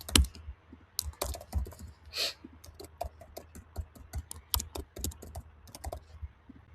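Profile login details and a password are typed on a computer keyboard: quiet, close, irregular bursts of crisp key clicks with short pauses, ending in a few spaced taps.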